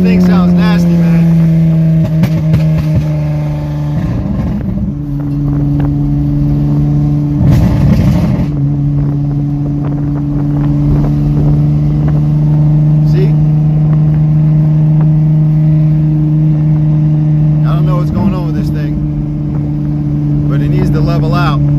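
A loud, droning 2009 Honda Accord V6 coupe with a rough straight-pipe exhaust and electric cut-out rumbling steadily, with occasional revs and brief bursts of noise throughout.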